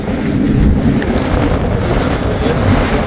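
Loud, roaring wind at sea buffets the microphone in a continuous rumbling rush, with no speech.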